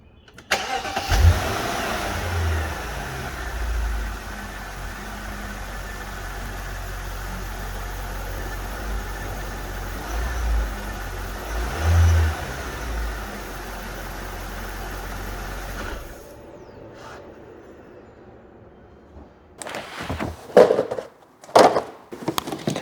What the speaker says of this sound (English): let's get the oil pressure up on this thing, get it running nice and smooth